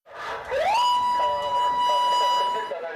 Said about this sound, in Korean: 시끄럽게 사이렌을 울리며